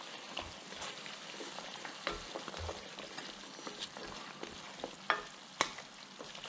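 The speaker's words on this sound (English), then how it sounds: "And some chopped tomato. Let's get this stirred in." Chopped tomato and green beans stirred into a frying pan, a steady soft sizzle with scattered scraping and tapping strokes of a spoon, close and quiet, no talking.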